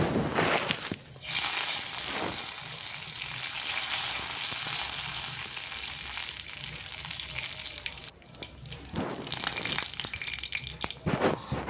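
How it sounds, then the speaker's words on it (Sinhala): Garlic and curry leaves fry in hot oil with a steady, loud sizzle that fills the whole stretch, broken by a few brief clatters of utensils near the start and end. "තෙල් ටික රත් වුණාම මම සුදු ලූණු කරපිංච තෙලට දාගන්නවා."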